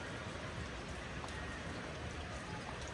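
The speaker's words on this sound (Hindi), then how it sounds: "ये बारिश लगी हुई है सुबह से" Heavy monsoon-season rain pours down in a dense, steady hiss that stays even and close throughout, with no voices.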